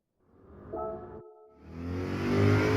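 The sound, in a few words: Corvette engine revving in Gran Turismo 7 video game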